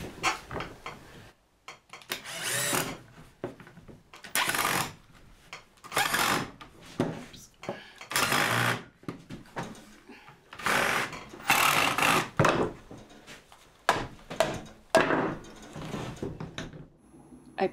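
Screws being driven into a wooden garden gate with a power drill, in repeated whirring bursts of a second or two with short pauses between, close and moderately loud, without speech.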